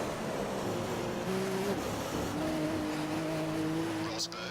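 A Formula 1 race car engine in the F1 2015 game at Spa holds a steady high whine with rising and falling pitch as it shifts through the gears, under a player's ongoing commentary.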